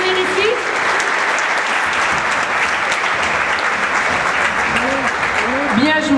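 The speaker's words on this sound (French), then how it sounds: "Je pense qu'on va applaudir une deuxième fois tous les joueurs pour leur participation." Audience applause for players at a youth minibasketball clinic in a gym, steady dense clapping throughout, with a voice briefly heard near the start and again near the end.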